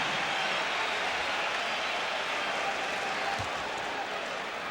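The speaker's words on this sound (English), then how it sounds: "And some sarcasm in the applause." Sarcastic crowd applause fills the arena at a Bulls vs Pistons basketball game at The Palace of Auburn Hills after an offensive foul call, a steady, dense wash of clapping and crowd noise lasting throughout.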